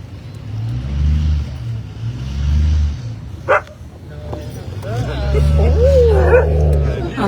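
A dog named Aloka barks during an outdoor peace walk: a single sharp bark rises above a steady rumble of passing traffic and engine noise, followed by brief whimpering yelps, with people talking nearby.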